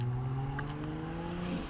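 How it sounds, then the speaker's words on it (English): A noisy car passes nearby, a steady engine drone with a slowly shifting pitch that holds throughout and eases slightly toward the end, with no talking. "there's a noisy car coming"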